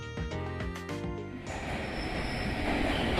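Sonic 4 express train at a station in Fukuoka Prefecture, Japan: a tonal chime or melody plays first, then gives way to a steady rumbling wash of train noise that builds louder toward the end, with no talking.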